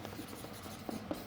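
A pen scratches faintly across a sheet of paper in quiet, soft continuous strokes with a couple of tiny taps, alone with no talking.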